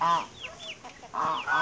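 A free-roaming farm rooster gives short harmonic clucks and squawky calls, several close bursts with brief gaps between them, clear and alone with no talking.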